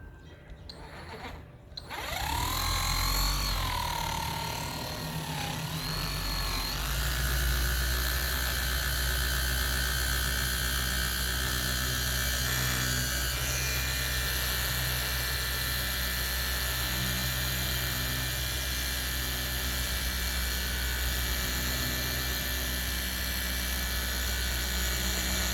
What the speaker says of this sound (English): I have no down pressure on this, just trying to guide the polisher at the moment.